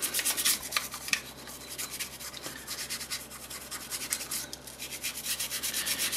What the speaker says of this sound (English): Going to give it a little squirt of CLP and get it going with a brush.